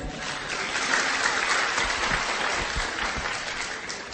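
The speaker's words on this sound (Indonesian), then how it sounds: "Kasih tepuk tangan dulu buat Pak Farid." An audience at a religious lecture gives steady, sustained applause, a thick wash of clapping from many hands that stays even and moderately loud from start to finish.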